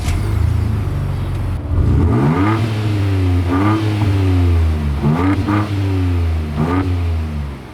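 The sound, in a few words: 2024 Ford Ranger Raptor dual exhaust revving in Baja mode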